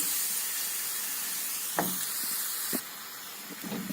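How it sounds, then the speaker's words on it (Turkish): Meat sautéing in a pan over strong, high heat, giving a steady close sizzle with faint hiss throughout and a few brief clinks or stirring knocks. "Kızgın ve sert bir ateşte etimi kavuruyorum."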